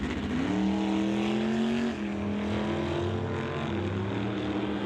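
Drag racing cars in qualifying at Mission Raceway accelerate down the track, a loud sustained engine roar with rising pitch sweeps, heard continuously without talk.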